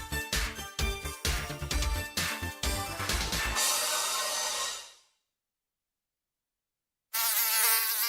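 A mosquito's whining buzz in a skin protection advertisement comes in pulsing close passes, then a sustained drone fades to silence before a loud buzz returns.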